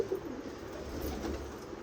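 Pigeons at a breeder's loft in Tarn Taran coo softly and steadily, a low continuous murmur with no voices.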